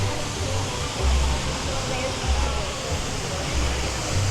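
Steady broadband rush of a theme-park waterfall at Dollywood near the Big Bear Mountain area, a continuous close wash of falling water with low rumbling swells, no talk over it.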